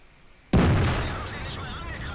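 A tank gun fires once in World of Tanks, tank destroyer replay with an SU-152 or JagdPanther II facing an IS-3: a sudden loud booming blast after near silence, its heavy rumble decaying slowly into a sustained roar.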